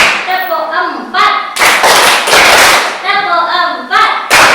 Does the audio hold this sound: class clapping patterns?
yes